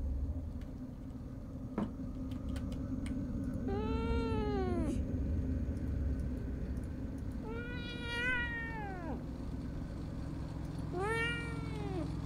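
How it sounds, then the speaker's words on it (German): A cat in the video game Fears to Fathom meows three times, long drawn-out wailing cries spaced a few seconds apart over a low ambient rumble. "Es war nur eine Katze."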